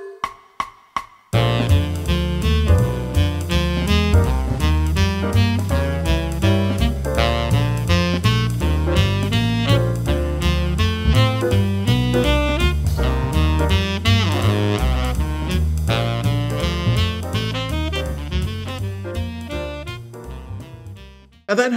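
Arpeggiated seventh-chord tones are improvised over a jazz standard, flowing instrumental lines in continuous rhythm for about twenty seconds, full and close, with no voices.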